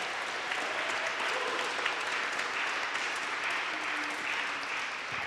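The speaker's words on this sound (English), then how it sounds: "I promise that that was not an applause line" A congregation applauds inside Judson Memorial Church during a Sunday sermon, a steady, dense wash of clapping from many hands that holds evenly for about five seconds with no voices over it.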